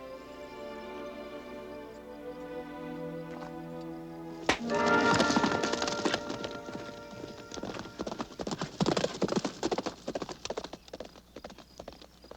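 Horse hooves clop steadily and loudly after a quiet opening, with a brief whinny and some shuffling around the rapid hoofbeats.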